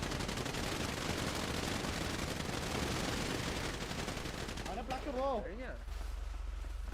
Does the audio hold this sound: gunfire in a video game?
yes